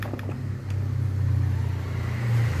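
A Honda Beat FI motorcycle with a rough-sounding starter cranks under its electric starter, a close, steady low mechanical churn that grinds on for the whole few seconds without settling into a clear idle.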